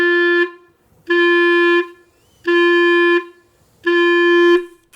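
Four sustained clarinet tones on an open G, each held about three-quarters of a second and cut off cleanly by the tongue, with even gaps between them, loud and close with no talking.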